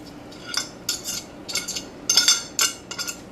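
Pulled pork tipped back into a pot of chipotle sauce, giving several short metallic clinks and scrapes of a utensil against the pot in quick irregular bursts, close and fairly clear with no talking.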